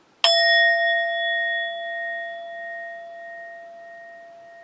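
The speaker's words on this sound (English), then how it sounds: "Let me ring my singing bell for this." A singing bell is struck once, giving a sharp attack followed by a clear, sustained ringing tone that slowly fades over several seconds in a quiet room.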